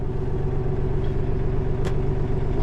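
A front snowblower on a wheeled tractor, run from the mid PTO, starts up with a loud, steady low engine drone and a brief sharp burst near the end, with no voices.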